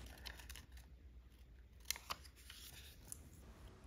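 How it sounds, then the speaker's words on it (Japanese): Scissors snip through a paper sewing pattern for a rounded purse frame. Small close crisp cuts come in an irregular run, with two sharper snips near the middle, and no one speaks. "この点線の方が丸い口金の型紙なんで、間違わないようにカットします"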